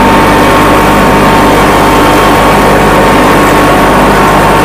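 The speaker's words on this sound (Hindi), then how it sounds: "अब ट्रैक्टर बैक करना है, उठाया सीधे हम गए हाई में आ गए।" A Kubota mini tractor engine runs loud and close in a field, a steady rough mechanical drone that holds constant throughout without talk.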